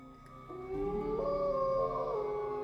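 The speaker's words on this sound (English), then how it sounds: "The howling on the wind becomes louder" A wavering howl rises and bends across the night wind, long and sustained with a mournful pitch, like a canine chorus in the distance with no voices over it.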